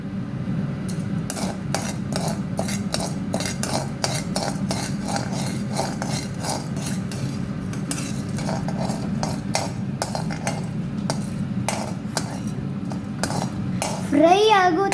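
Urad dal frying in a pan while being stirred, a steady run of metallic scrapes and clinks from spoon against pan over a low sizzling bed, a voice heard at times.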